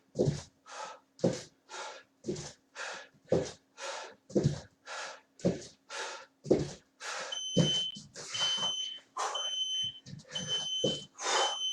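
Beeps from a workout interval timer sound during an online home exercise session, coming in a short series near the end over a steady background with rhythmic breathing and gasps throughout.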